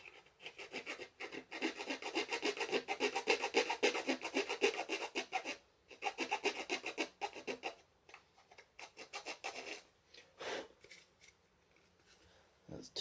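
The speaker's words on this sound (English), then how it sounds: "The nice thing about using a hacksaw blade is you can keep it all relatively flat." Hacksaw blade rasping back and forth in steady strokes, sawing and filing flat sides on a modification part, with short pauses between bursts of scraping; close and moderately loud, no voices.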